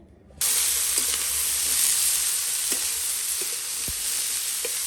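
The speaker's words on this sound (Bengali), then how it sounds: "এবার এই উচ্ছেটা ভাজা করে নেবে মা এখানে" Bitter gourd frying in a kadai on a new stove, a loud, steady close sizzle that starts abruptly and continues alone with a few faint clicks and taps.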